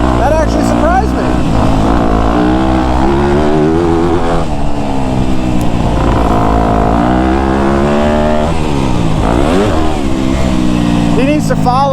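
Motocross bikes lap a dirt track, with two-stroke-style engines revving up and down in continuous rising and falling whines at close range while a voice talks over them.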